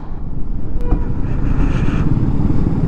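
A motorcycle rides along a snowy mountain road, its engine a steady low rumble mixed with heavy wind buffeting the microphone, loud and continuous throughout.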